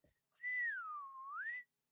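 A voice whistles in imitation of a slide whistle: one clear, mid-loud tone glides down, holds low, then slides back up over about a second.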